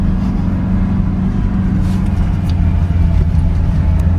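A 2024 Toyota Land Cruiser with a four-cylinder engine drives off-road on powdery sand, producing a loud, steady low engine drone and rumble heard from inside the cabin.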